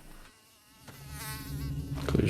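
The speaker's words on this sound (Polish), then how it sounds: "Komary, kurde, mi to latają." Mosquitoes buzz around outside an abandoned house, a thin high whine that hovers close and swells over a couple of seconds, with some low rustling underneath and no talk.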